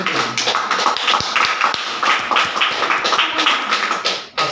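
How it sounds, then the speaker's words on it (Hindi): A loud, dense burst of audience clapping fills the room, many hands overlapping into a continuous crackling patter with a few sharper thuds, before cutting off abruptly near the end. "ताली बजती है।"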